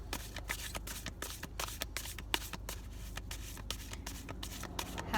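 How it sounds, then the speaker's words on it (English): Tarot cards being shuffled by hand, a quick rhythmic run of soft riffles and slaps repeating close to the listener at a quiet level, with no speech over it. "I am shuffling as I was guided to as I record this"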